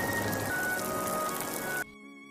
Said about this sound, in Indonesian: hujan turun sangat deras